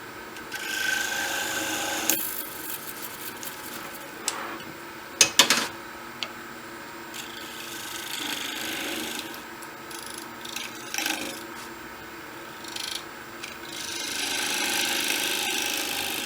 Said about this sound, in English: The lid has now been sanded up to 240 grit